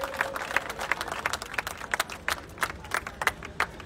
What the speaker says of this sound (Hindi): एक बार जोर ताली हो जाए।